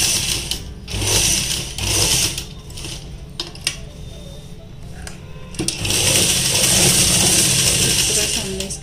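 A sewing machine stitches a suit or kurta seam, pausing while the fabric is turned at a corner. Its rapid mechanical chatter comes in close bursts, with a longer steady run toward the end.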